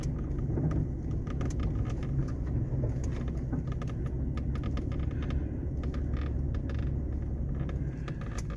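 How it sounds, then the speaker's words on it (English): A 2000 Ford F350 Super Duty pickup with a 7.3 PowerStroke diesel crawls off-road over big sticks on soft ground, with a steady low engine rumble under repeated creaks, cracks and knocks from the wood and the truck's body. "Ugh, we're running over some pretty big sticks."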